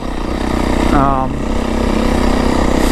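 A 2025 Beta 350RR X-Pro dirt bike being ridden in fourth gear, a steady loud engine drone with a brief rising note, while a rider talks over it.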